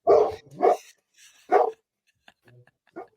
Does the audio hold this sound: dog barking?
yes